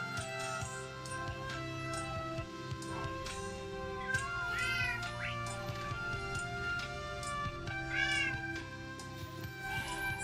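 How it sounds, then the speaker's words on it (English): Cats meow repeatedly in a cozy life-simulation video game, several short rising meows scattered over steady background music. "Is this not your cat, or did this one just not want to come over?"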